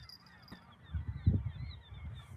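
Waterbirds on a small island out on a bass-fishing lake give distant goose-like honks, a cluster of low, rough calls, with faint higher cries carried across the water.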